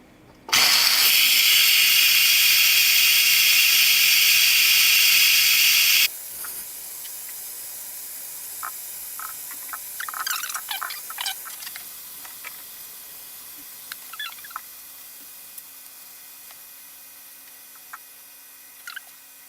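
Instant Pot pressure cooker on quick release: a loud, steady jet of hissing steam blasts for about five seconds, then cuts off abruptly, leaving faint clicks and rattles in a quiet kitchen.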